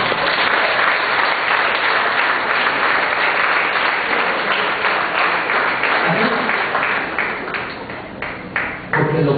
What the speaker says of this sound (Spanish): Y denle un aplauso, pues usted le da ahí.